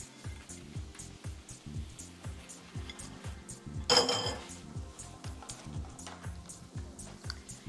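A spoon scrapes and clinks against a pot in a steady stirring rhythm, close and fairly quiet, with a sharper clatter midway.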